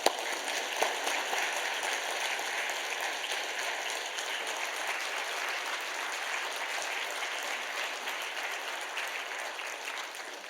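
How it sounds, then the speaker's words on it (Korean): A church congregation at a Wednesday evening worship service claps warmly to welcome a guest preacher, steady dense applause sustained throughout, loud and close, with no talk over it. "나오실 때 우리 뜨거운 박수로 환영하겠습니다."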